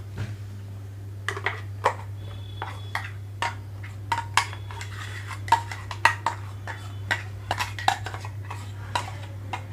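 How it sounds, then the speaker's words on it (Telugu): A spoon scrapes and taps as peanut chutney is transferred into a bowl, a steady series of light clinks over a constant low hum. "ముందుగా బౌల్లోకి తీసుకుంటున్నాను."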